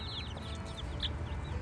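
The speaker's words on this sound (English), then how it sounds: "Right now we have Moon and her chicks still in a small coop" A hen and her chicks in a small coop make soft, scattered clucks and peeps over a low background hum, faint and fairly close.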